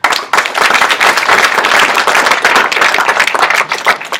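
Sustained audience applause fills a hall at an honors induction ceremony, many hands clapping densely and steadily throughout at close, loud level.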